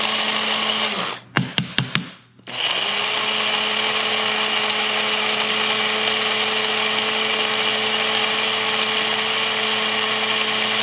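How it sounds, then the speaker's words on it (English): A Proctor Silex electric coffee grinder whirs loudly as it grinds coffee beans, stopping briefly for a few quick pulses before resuming a steady, high-pitched motor whine that holds for the rest of the clip. "And this takes less than 30 seconds to grind it up."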